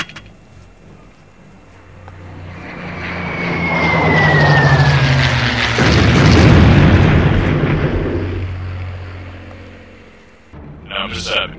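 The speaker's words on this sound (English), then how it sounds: "you call in an airstrike" In Return to Castle Wolfenstein, an airstrike aircraft whines overhead in a rising and falling pass, then heavy explosions rumble and boom loudly before fading, with a brief voice near the end.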